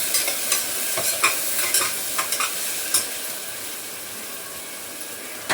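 Softened onion and tomato, salted, are stirred as they sauté in a pan: a soft sizzling hiss with light, irregular scraping strokes of the spoon, close up and fairly quiet.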